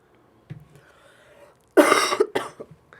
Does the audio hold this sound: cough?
yes